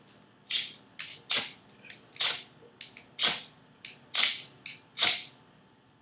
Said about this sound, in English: we'll try the fire steel. See if we can light it.